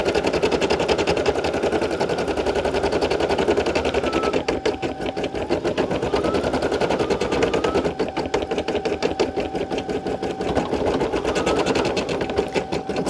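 A Brother SE1900 embroidery machine stitches out a bearded dragon design, its needle chattering in a fast, steady mechanical rhythm, close and continuous with slight shifts in tone.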